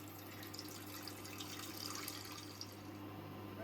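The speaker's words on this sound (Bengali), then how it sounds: "আমি জল দিয়ে দিচ্ছি" Water runs and splashes faintly and steadily over potatoes in a pressure cooker, a soft continuous pouring over a low background hum.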